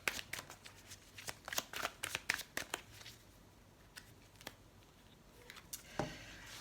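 Tarot cards being handled and shuffled close up, a quick series of soft papery flicks and riffles that thin out into occasional faint slides and taps, quiet and without speech.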